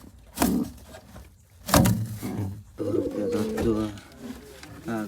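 Pigeons coo softly and repeatedly among a rare pigeon collection, including white and peacock-feathered birds. People talk over the cooing throughout.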